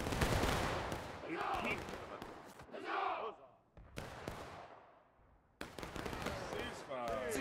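A line of infantry fires musket volleys in the Civil War game War of Rights, several loud ragged cracks that echo and decay, with shouted commands and cheering voices between them.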